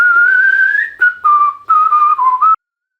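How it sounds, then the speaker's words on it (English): A single person whistles a clear, close tone that wavers and steps in pitch through a few short phrases, then stops into silence. "Let's do some whistling."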